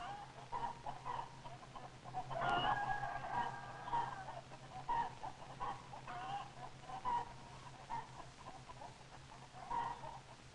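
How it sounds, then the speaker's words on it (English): A big rooster in a farm chicken yard crows once, loud and near, followed by softer clucking and farmyard bird calls over a faint steady hum. "The big rooster crows right in Tuffy's face."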